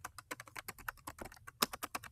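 Computer keyboard typing for a Google Slides text box: a rapid, irregular run of close, crisp keystrokes with one sharper tap near the end, no voice over it.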